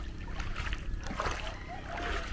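Strong floodwater rushing loudly and steadily nearby, with a continuous broad churning roar and splashing that swells in the middle and again toward the end.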